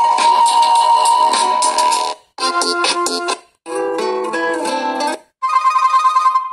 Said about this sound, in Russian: и вот звук я еще не показал другие рингтоны.